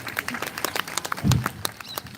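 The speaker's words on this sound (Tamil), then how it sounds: "உங்க எல்லாருக்கும் ஒரு மிகப்பெரிய கைத்தட்டல் தரணும்" Children at a summer arts and literature celebration clap in scattered, uneven bursts of moderate loudness, with a brief low thump near the middle.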